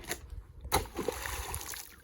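Water splashing out of a drinking-water bottle outdoors in a village, heard as a few brief sloshing splashes close by with a sharp burst in the middle, under faint background noise.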